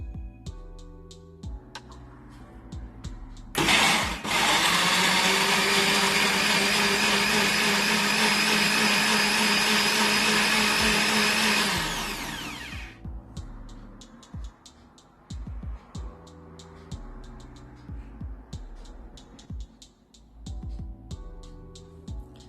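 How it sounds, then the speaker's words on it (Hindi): Electric kitchen grinder pulverizing an onion: the motor starts abruptly into a loud, steady whirring roar, holds for about eight seconds, then winds down. Quieter handling clatter comes before and after. "1 अनियन लेंगे, उसको हम ग्राइंडर में पीस लेंगे।"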